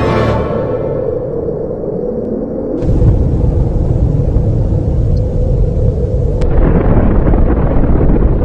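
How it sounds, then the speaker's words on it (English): A synthetic atomic bomb explosion effect bursts in after a short tonal lead-in, then becomes a loud, sustained roaring rumble that fills the rest of the clip. "that was my first atomic bombs ever"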